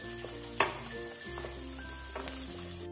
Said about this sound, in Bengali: কাঁচা লঙ্কা, রসুন আর চিনেবাদাম। আর একটু ভেজে নেবো ভালো করে।